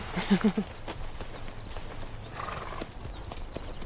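Hooves clip-clop in a quick cluster of close steps, then continue more faintly and sparsely against a quiet outdoor background.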